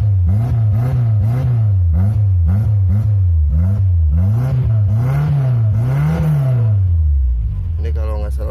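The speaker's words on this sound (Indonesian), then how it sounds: "Suara mesinnya laki banget nih." Suzuki Katana 90 engine idling and rising and falling through repeated revs, a steady loud motor drone with about ten throttle blips that ends in a higher rev before dropping off.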